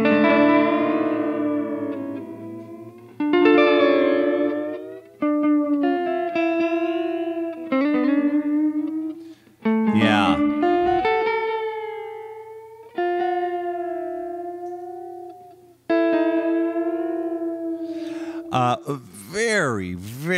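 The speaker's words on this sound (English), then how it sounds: "So it's a moving delay, which makes a lot of sense. It's a dual moving delay." A D minor add 9 chord played through the Kurzweil KSP8 Warped Echoes preset, a dual moving delay, sounds in repeated bursts whose echoes bend and warble in pitch, ending in a swirling, wavering smear of sound.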